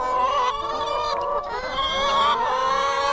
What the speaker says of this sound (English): These are a commercial breed of laying hens.